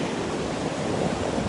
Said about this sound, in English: Oh, those are beautiful waves, big crashing waves.